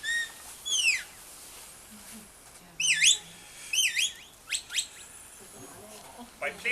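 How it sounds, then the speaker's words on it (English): A shepherd on the hills of County Kerry sends signals to a sheepdog with sharp, rising and falling whistles. They come in short separate bursts over quiet outdoor background noise, with faint low sounds between them. "If the dog is working at a distance, much easier communicate by whistle."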